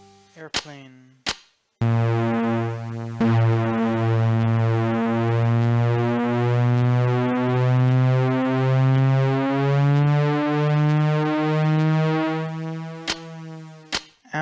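Airplane sound effect played on a Casio SA-20 keyboard: a sustained, droning electronic tone with a rich buzzy timbre and a slowly wavering pitch, lasting about twelve seconds, framed by brief clicks and short bursts at the start and end.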